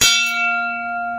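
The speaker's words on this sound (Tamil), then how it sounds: "இப்படி கோயில் மணி மாதிரி சவுண்டு கேட்குங்க பாருங்களேன்" A heavy antique bronze vessel that holds about three litres is struck once and rings out loud and close like a temple bell, with a sharp attack and steady sustained tones that hold without fading.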